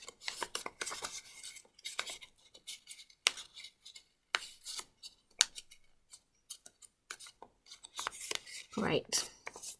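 Origami paper crinkles and rustles in short bursts as a folded flap is opened and pressed flat, close and fairly quiet, with gaps of near silence between the rubs.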